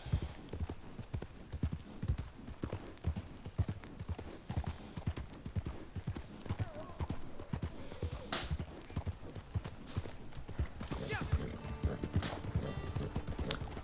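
A horse in Red Dead Redemption 2 at an easy gallop, its hooves drumming in a steady rhythmic clip-clop on the ground for the whole stretch, with a brief snort and occasional faint effects.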